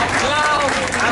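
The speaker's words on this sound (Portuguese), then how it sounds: "Aplausos, todo mundo em festa." Applause at a festive celebration honoring a local pé de moleque sweet maker in São Paulo, a dense steady wash of clapping from a crowd filling the whole moment without pause.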